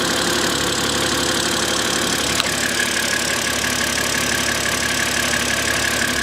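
A BMW 130i engine idles steadily and loudly at close range, an even mechanical drone with one brief click partway through and no voices.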